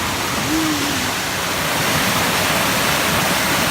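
A small waterfall on the Mt. Diablo hiking trail rushes as a steady, loud, broadband wash of falling water that fills the whole stretch, with a brief faint tonal whistle early on.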